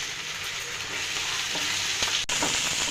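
Pieces of chicken fry in a pan with an even, close sizzle, broken by a few stirring scrapes and one sharp clack near the end, with no voices over it.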